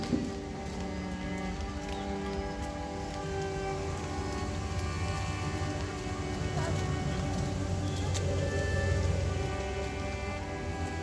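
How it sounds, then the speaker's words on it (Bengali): Heavy rain pours steadily outside during a rainy day, a dense, even wash of drops with no clear breaks, moderately loud throughout. "বাইরেতেও খুব বৃষ্টি হচ্ছে"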